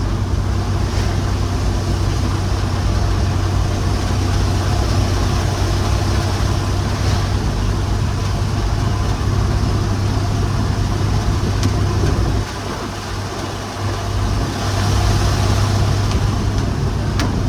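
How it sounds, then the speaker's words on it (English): An old Ford F-100 pickup truck engine, unused for 25 years, runs steadily and loud, a continuous low rumble that dips briefly and then picks back up. "The engine's got pretty good throttle response."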